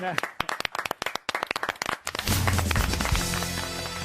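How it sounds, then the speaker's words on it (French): A studio audience on a French radio comedy panel show claps in loud, sharp, separate claps that run for about two seconds before music and talk take over. "On vous applaudit, Valentine."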